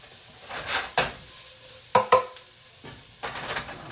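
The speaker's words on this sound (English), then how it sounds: "We're going to take our veggies, dump them in there. Just going to get up all that good stuff off the bottom of the skillet." Vegetables (onions, peppers and mushrooms) sizzle as they are stirred in a hot skillet, the spoon scraping the bottom. Several sharp clanks and scrapes break up a soft, steady frying hiss.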